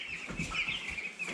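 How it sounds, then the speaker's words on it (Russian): Cobb 500 broiler chicks, eleven days old, cheeping in a poultry house, a continuous chorus of high, thin peeps close by with a few soft rustles underneath. "Так, что касаемо, значит, цыплят. Смотрите, цыплята"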